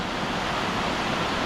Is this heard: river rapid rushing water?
yes